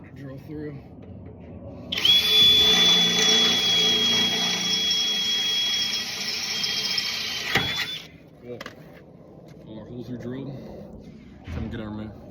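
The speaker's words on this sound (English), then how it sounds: "it takes a little bit more effort to drill through." Power drill boring through doubled-up steel bedside panels on a Honda Acty kei truck, a loud whining run of about six seconds, then short bursts and clatter as someone talks.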